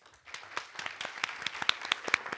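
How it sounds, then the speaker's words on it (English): Scattered clapping from a small audience builds over a couple of seconds, soft and a little distant, with no voices. "please, a warm applause of welcome to them"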